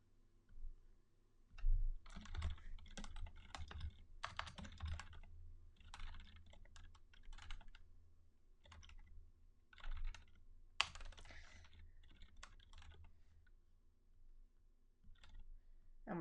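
Close, quiet typing on a computer keyboard: bursts of rapid key clicks with short pauses between them, continuing steadily throughout.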